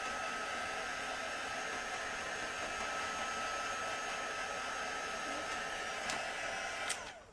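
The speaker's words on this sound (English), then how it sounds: "I'm just going to dry that with my little heat tool." A small crafting heat tool blows steadily to dry watercolour paint on a card background, giving a continuous loud airy whir with a couple of faint clicks near the end.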